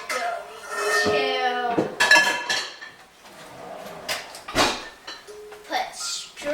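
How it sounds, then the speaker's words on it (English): A medium-sized pan is pulled out in a home kitchen, with metallic clanks and clinks of pots and utensils, close and fairly loud, while a child and an adult talk over it. "we're going to get out a medium-sized pan"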